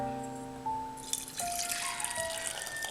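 Kadha, an Ayurvedic herbal immunity drink with lemon and honey, being strained and poured into a jug, a faint splashing trickle with light rattles starting about a second in, over a quiet background tone.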